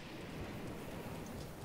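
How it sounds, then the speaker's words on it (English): Steady rain in Zelda: Breath of the Wild near ruins in the Akkala region, a soft continuous hiss with low rumble beneath, constant and even throughout with no talking. "Of course it's raining when this comes up."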